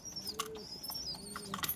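Young pigeons kept inside a loft coop peep and chirp in thin, high calls, with soft cooing and brief wing flaps close by in a quiet space.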